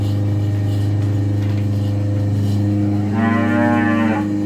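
A cow gives one loud, drawn-out moo near the end, over a steady low engine hum that runs the whole time, on a dairy farm.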